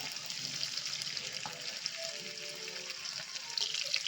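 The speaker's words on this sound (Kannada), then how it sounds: "ಒನ್ ಅವರ್ ಆಯಿತು ಫಿಶ್ಶು ಮ್ಯಾಗ್ನೇಟ್ ಮಾಡಿ ಈಗ ಫ್ರೈ ಮಾಡ್ಕೊಳ್ಳೋಣ" Salmon pieces, marinated for an hour, frying in about four spoons of oil over medium flame, giving a steady, soft, close sizzle with small crackles throughout.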